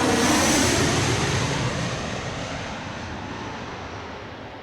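An airliner takes off from the runway at DCA airport with a broad, loud engine roar that slowly fades and thins as the aircraft pulls away, with no voices over it.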